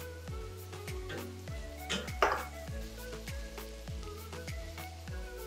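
A spoon scraping and clinking rhythmically in a pan while onion, garlic and green chillies are stirred for dhaba-style palak paneer, with a soft sizzle underneath and repeated close metallic taps.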